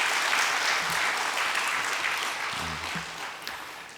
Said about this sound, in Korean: 우리 다시 한번 우리 박수로 감사의 마음을 표시하겠습니다